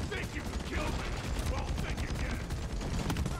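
Rapid machine gun bursts fire in a dwarf mining video game, dense and continuous, mixed with mechanical clatter and game effects, with players' voices faintly underneath.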